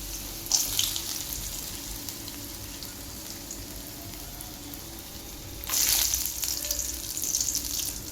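Dry fruits dropped into hot oil for carrot halwa fry with a steady crackling sizzle, with louder bursts as pieces go in near the start and again later; no talking.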